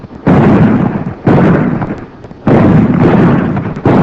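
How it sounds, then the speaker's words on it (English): Gunfire in a 1932 western serial: heavy shots and blasts arriving in three long booming bursts with rumbling tails, loud and close, no speech heard. "We've got to keep firing until Noah can bring help."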